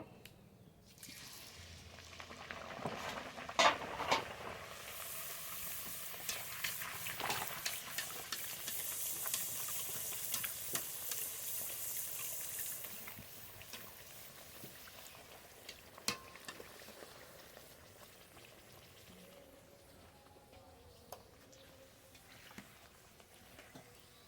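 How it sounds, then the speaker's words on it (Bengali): Puffed luchi fry in oil in a wok with a soft, continuous sizzle and bubbling, marked by occasional sharp clinks from the utensil and a quieter stretch toward the end. "লুচিটা ভাজা হয়ে গেছে নামিয়ে নেব আরও লুচি ভেজে নেব"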